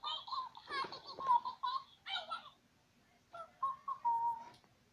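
A pet bird imitates human speech with short whistled, voice-like phrases in two bursts separated by a brief pause, fairly close and moderate in level.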